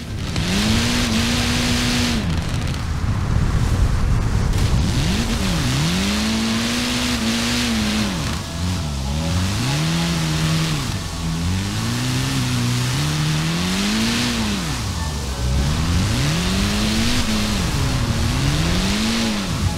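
A drift car's engine in Forza Horizon 4, loud and close, rising and falling in long revving sweeps with screeching tyre noise throughout, no voices.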